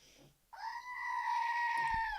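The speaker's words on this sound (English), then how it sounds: "We're doing the Screaming Goat." A Screaming Goat novelty toy lets out one long, loud, strained scream that holds steady after a brief quiet start, up close and alone.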